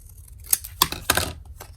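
Scissors snip through paper while trimming a small handmade matchbook pocket for junk journal embellishment, giving a few short, crisp cuts spaced apart at close range with no talk.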